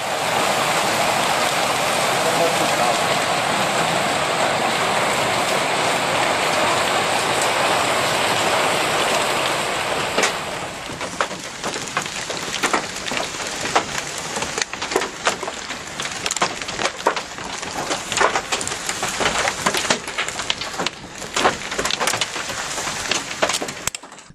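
A heavy hailstorm in Romania roars as a dense, loud wash of falling ice, then shifts to sharp, irregular clattering impacts of hailstones striking hard surfaces, close and continuous with no voices.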